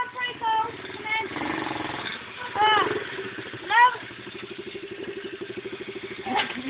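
A pit bike engine idles with a steady low, rhythmic chugging beneath a man's close, continuous talking, briefly swelling in a couple of places.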